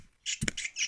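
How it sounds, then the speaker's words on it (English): A goblin in the Everquest 2 video game squawks in a few short, shrill bursts with brief gaps, close and fairly quiet, with no talk. "Squawking goblin."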